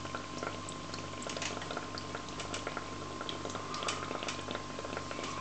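An air pump bubbles water in a hydroponic basil setup, producing a continuous close, fizzing burble with a steady low motor hum underneath and no talking.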